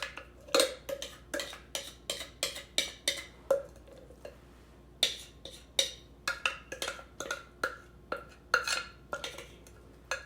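Thick corn casserole mixture is spooned and scraped into a baking dish, giving a steady run of sharp utensil clinks and scrapes against the dish, close and fairly quiet, with no talking.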